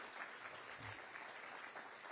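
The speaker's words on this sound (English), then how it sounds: "Let's give them all a round of applause." Audience at a modeling and simulation hall of fame ceremony giving a round of applause, faint scattered clapping in a large room, quiet and somewhat distant.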